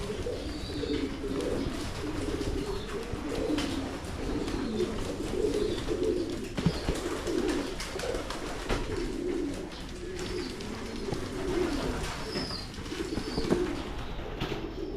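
Pigeons on a farm coo in repeated soft, rolling phrases throughout, moderately near over a faint outdoor background, with no voices.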